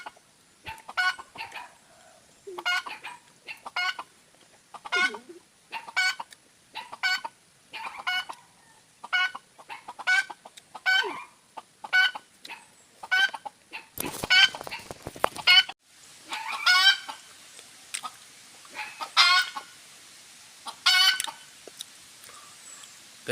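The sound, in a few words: chicken clucking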